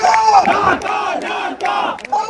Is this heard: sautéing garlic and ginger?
no